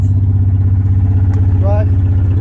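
A Mk3 Volkswagen Golf GTI with about 273k on it idles steadily nearby, its engine giving a loud, even low rumble with a regular pulsing beat and no breaks.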